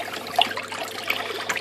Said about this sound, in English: we'll give it a little stir anyway